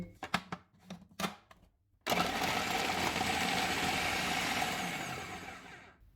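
A few short knocks and clatters, then an electric chopper whirs loudly and steadily for about four seconds, chopping garlic, onion and green chillies, before winding down.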